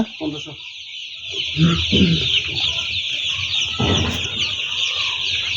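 Young two-day-old chickens in a poultry brooding shed, a busy mass of high cheeping and clucking that runs on continuously, with a voice speaking briefly over it.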